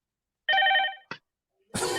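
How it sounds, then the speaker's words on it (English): A telephone rings with a bright electronic trill, one half-second burst and a short blip, followed by a brief pause before a noisier sound begins. "They're not going to stop calling, and it's ringing that many times."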